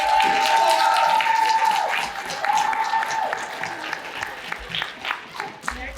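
Crowd at a community art and oratory contest event claps for a dance group, loud at first then fading, with a voice speaking over the applause as it dies down.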